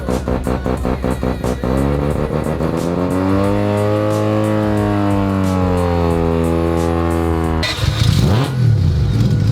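A rotary-engine car fitted with Racing Beat double pulleys, at a large rotary car meet, blips its throttle in quick choppy bursts, then holds a long rising and falling rev before a sharper surge near the end, loud and close.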